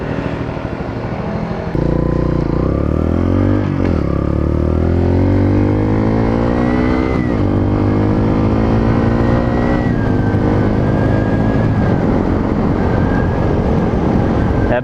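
A Bullit Hero 125 motorcycle is ridden through the gears, its engine revving up in repeated rising sweeps with a brief dip at each shift, loud and close, with some talk in the background.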